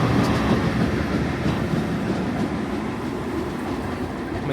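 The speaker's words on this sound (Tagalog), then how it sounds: "May tren na dumaan." A train rumbles steadily past at a station platform in the Netherlands, a loud continuous rolling roar of wheels on rails with faint clatter, heard up close for the whole stretch.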